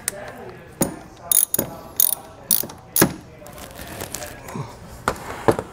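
A ratchet wrench tightens a wiring terminal on a trailer brake controller kit, giving quick bursts of close, loud clicking separated by short pauses, with no talk.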